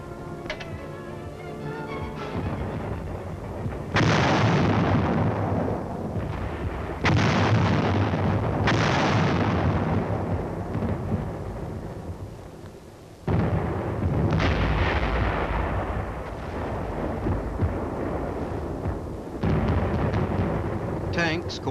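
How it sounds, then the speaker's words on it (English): Self-propelled 155mm artillery guns fire from a forward position, heavy booming blasts landing around 4, 7, 8.5, 13 and 19 seconds, each followed by rumbling roll-off over a continuous battlefield din. "supported by self-propelled 155mm guns. With the aid of artillery spotters and information obtained from patrols, the big guns from this forward position concentrate their fire"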